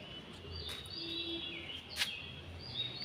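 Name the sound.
birds chirping in the morning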